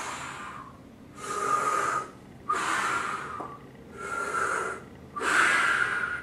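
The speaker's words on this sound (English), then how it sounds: "when you go down, inhale, and when you come up, exhale" Five deep, slow breaths alternate in and out during a brain-coordination exercise, each long airy rush separated by brief pauses, close and clear with no talking.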